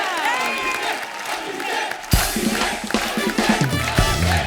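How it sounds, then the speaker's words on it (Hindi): Studio audience on The Kapil Sharma Show bursts into cheering, whoops and clapping after a quieter stretch, loud and lively crowd noise with a few shouted voices. "जोरदार तालियां अभिषेक भाई और चित्रांगदा के लिए"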